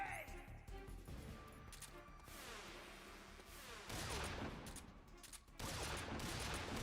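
Gunfire erupts in the stealth game Metal Gear Solid 3, with sharp shots and bursts landing in clusters over a few seconds and loud impacts near the end.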